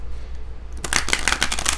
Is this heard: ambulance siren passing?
no